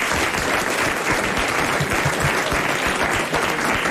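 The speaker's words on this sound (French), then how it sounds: "Nous l'applaudissons." A French television studio audience applauds loudly and steadily, close and dense clapping that holds for several seconds without speech over it.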